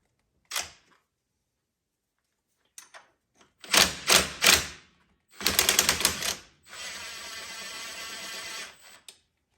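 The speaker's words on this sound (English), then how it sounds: "And get this other bolt out." A ratchet works a bolt loose on the rear axle of a Polaris Sportsman ATV, sounding as a few close bursts of rapid clicking with short gaps, ending in a longer steady buzz.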